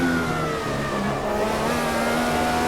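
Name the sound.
sim racing car accelerating after hitting the gas, video game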